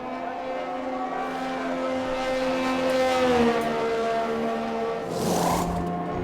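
An F1 car in the F1 2021 game entering the pit lane, its high-pitched engine note holding steady then dropping sharply as it slows, followed by a brief rushing burst of noise near the end.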